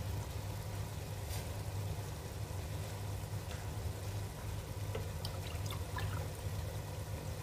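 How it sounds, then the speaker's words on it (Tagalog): Water poured steadily into a cooking pot of rice over an ongoing low engine-like hum, a continuous trickling wash lasting several seconds with no talk. "Lagay na tayo ng tubig."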